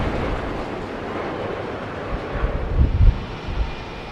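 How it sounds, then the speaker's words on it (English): An American Airlines Boeing 777-300 arriving from LAX lands at Heathrow, its steady, loud engine roar filling the air and swelling slightly toward the end, with no voices. "American Airlines, Boeing 777-300, and that is coming in from LAX."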